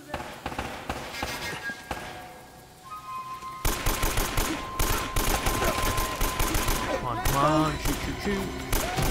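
Rapid bursts of gunfire from the video game Uncharted: Drake's Fortune crackle loud and dense, thinner at first then filling nearly continuously, mixed with game effects while a voice speaks briefly.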